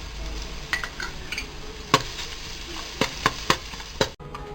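Crushed garlic sizzling in oil in a pan, with scattered sharp clicks and scrapes of a utensil stirring, no talking.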